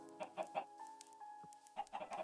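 Minecraft chickens cluck repeatedly, quick clusters of short clucks at the start and end around a sustained tonal middle, close and distinct, with nobody speaking.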